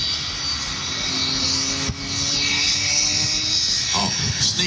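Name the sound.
Smoke and Thunder jet truck engine at airshow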